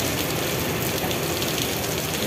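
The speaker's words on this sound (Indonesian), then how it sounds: "Masih hujan, tambah deras ini tampaknya hujannya." Heavy rain pours at the Kampung Rambutan bus terminal in a dense, unbroken roar of steady hissing wash, with no voices.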